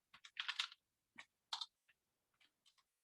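Typing on a computer keyboard during a programming lesson: scattered clusters of crisp key clicks, some quick runs and some single taps, close and fairly clear against silence.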